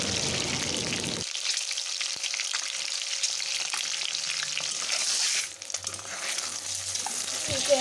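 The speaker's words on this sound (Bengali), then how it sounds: "ডিমগুলো আমার লাল লাল করে ভাজা হয়ে গেছে" Steady crackling sizzle of boiled eggs frying in hot oil, with a low hum and a few soft clinks in the background.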